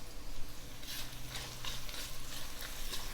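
Baby potatoes sautéed in oil in a pan give a steady, close sizzle, with stirring scrapes and bursts of frying crackle throughout.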